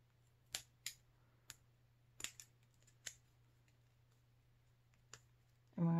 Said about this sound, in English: And we're going to snip the corner again.